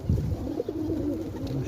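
Pigeon cooing close up while being hand-fed seeds, a soft low warbling coo repeated in a short run, with no talk over it.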